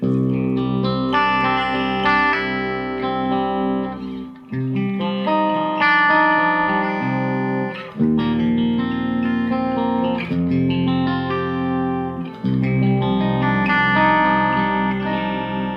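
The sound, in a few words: clean guitar amp channel with reverb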